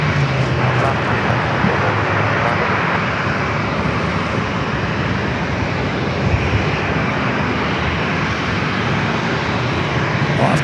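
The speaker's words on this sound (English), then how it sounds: "Delta Connection, SkyWest, flight 3601, coming in from LAX and an E-Jet" A Delta Connection SkyWest E-Jet arriving at San Diego from LAX makes a loud, dense engine roar that stays close and steady throughout, with a voice talking beneath the aircraft noise.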